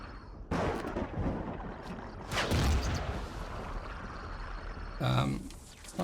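Sniper rifle fire in the Empyrion Galactic Survival video game: a few loud, sharp booming shots with long rumbling tails, one near the start, one mid-clip and another near the end, with speech over the last.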